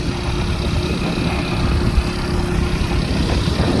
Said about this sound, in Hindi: मैं खुद चला रहा हूँ बाइक